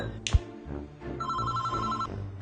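A telephone rings repeatedly in a domestic scene, a steady electronic trill that sits under low background sounds and a brief knock.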